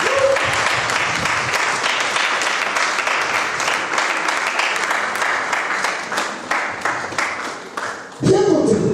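Congregation applauding and cheering during a church service, a loud sustained wash of clapping that thins into scattered individual claps before a voice cuts in at the end.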